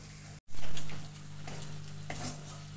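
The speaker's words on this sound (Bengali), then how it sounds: "এখন আমি গ্যাসের ফ্লেমটা একদম কমিয়ে দেব, দিয়ে এটা ভালো করে নাড়াচাড়া করে নেব" Katla kalia masala with yogurt stirred in a pan over a low flame, a steady sizzle with scraping spoon strokes throughout after a brief cut near the start; no talking.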